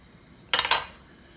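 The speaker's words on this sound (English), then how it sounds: "We're gonna take it off the stove." Metal pan lifted off a stove while making jalapeño and cheese samosa wrappers, a brief pair of clanking metallic scrapes and clinks against a quiet background.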